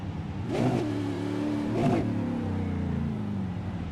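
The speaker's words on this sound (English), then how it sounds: "the victory burnout on the main straight with a crunched and wounded car" Engine of a Supercar eSeries sim race car revving hard after a crunched, damaged finish during victory donuts and a burnout on the main straight, with two sharp rising revs over a steady droning idle, no talk.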